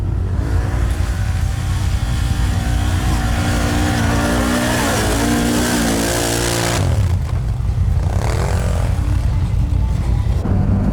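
A quad bike engine revs hard and close as it accelerates along a snowy trail, a steady loud drone that rises in pitch and then eases off near the end.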